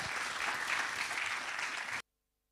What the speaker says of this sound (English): Please applaud him to say thank you.